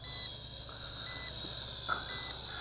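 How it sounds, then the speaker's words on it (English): A Syma X8SW quadcopter's controller gives three short, evenly spaced electronic beeps, clear and close, with a quiet hum between them. "until we hear that beeping"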